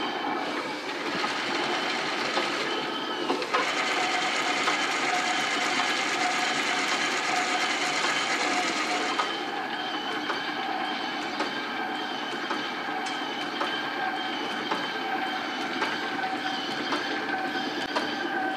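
A metal lathe runs under power feed, giving a steady, dense mechanical whir with a clicking, gear-like texture throughout, louder for the first half and then slightly subdued, with no talking.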